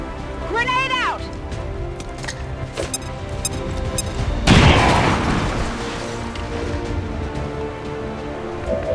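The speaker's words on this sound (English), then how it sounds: "Grenade out!" A grenade detonates in the XCOM 2: War of the Chosen video game: a voice shouts a callout, then a heavy, loud blast bursts midway and rumbles out over game effects and music.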